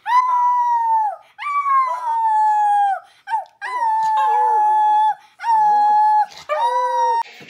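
A dog howls in a series of long, wavering, rising-and-falling cries, five or six drawn-out howls in a row with short breaks between, loud and close with no talking.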